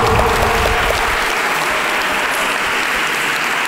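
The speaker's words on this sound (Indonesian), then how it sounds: "Tepuk tangan ya." Audience in a mosque during a Ramadan lecture clapping, a dense burst of applause that starts strong and holds steady for a few seconds, fairly close with no clear speech over it.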